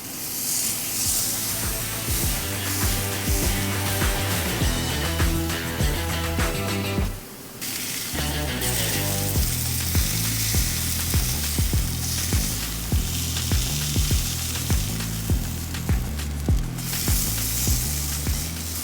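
Steak sears in a hot pan with a loud, continuous sizzle and hiss, broken by a brief dip partway through as the meat is turned, then the steady frying roar resumes.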